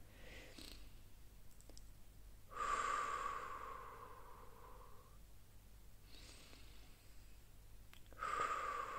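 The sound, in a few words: deep breathing during pilates exercise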